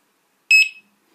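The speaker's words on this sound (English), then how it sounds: "it'll beep once" A home security alarm controller for a driveway infrared sensor system gives one short, bright electronic beep on arming, a brief double-pulsed tone that stands alone in silence.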